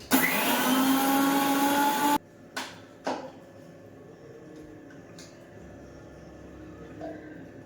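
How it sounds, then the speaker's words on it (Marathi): A kitchen grinder whirs loudly for about two seconds while finely grinding ajwain and cumin, then cuts off abruptly. A few clicks and knocks follow, then a quiet room. "ओवा जिरी हे आपण बारीक वाटून घेणार आहे"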